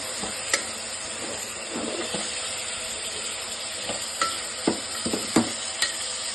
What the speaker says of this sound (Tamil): இதையும் சேர்த்து நல்லா மிக்ஸ் பண்ணிக்கலாம்.